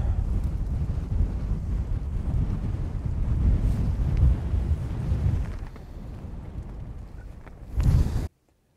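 Strong wind on an exposed mountain summit, buffeting the microphone with a continuous low roar and gusty surges throughout, briefly quieter before a final loud gust.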